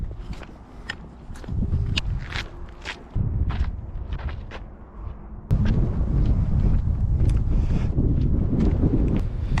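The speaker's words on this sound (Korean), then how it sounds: "호수가 오니까 또 바람이 부네" Wind buffets the microphone at a salt lake in Turkey near Ankara. The rumble is loud and gusty, with footsteps crunching across the ground throughout.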